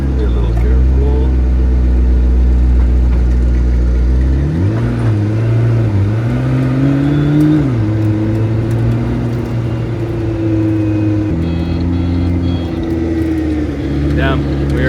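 A McLaren P1 rolls onto an airport tarmac, its engine droning loud and close before the pitch climbs, wavers, and settles into a sustained rev, with a voice talking over it.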